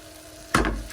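Minced beef in a frying pan is jabbed and broken up with a wooden spoon, a single sudden scraping clatter with sizzle that bursts in after quiet and fades over a fraction of a second.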